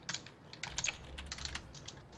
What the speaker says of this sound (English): What are you typing over there, BK?